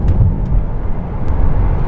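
A Ferrari Dino GT rushes past on a dual carriageway, a loud, close, steady engine rumble filling the short stretch without fading.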